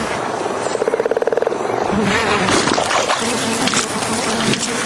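A fly buzzes close and steady in a frog commercial set in a swamp, a droning hum that wavers as it flies around, with no speech.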